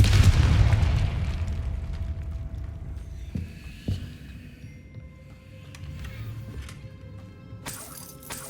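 A Confringo fire spell explodes in Hogwarts Legacy with a loud, boomy burst at the start that rumbles and fades, followed by a few smaller thuds and crackles, then a bright shimmering spell effect near the end.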